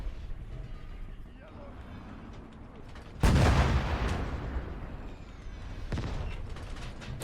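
A heavy artillery blast booms in the Gates of Hell Eastern Front battle outside Moscow, a sudden loud broadband burst with a long rumbling decay, another impact following later amid constant battlefield noise and a speaking voice.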